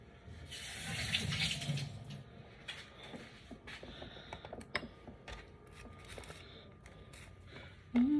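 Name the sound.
rinsing fruit under running tap water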